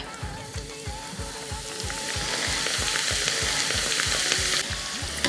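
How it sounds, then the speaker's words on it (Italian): Artichokes coated in rice flour deep-frying in oil at 180 degrees, giving a steady, loud sizzle and crackle with bubbling that builds and holds, plus a dense run of low rhythmic thumps underneath. "L'olio è a 180 gradi e possiamo iniziare a friggere."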